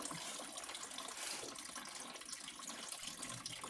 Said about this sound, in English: Drain that out. Let that drain a decent amount.